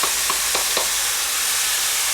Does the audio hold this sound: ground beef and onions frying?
yes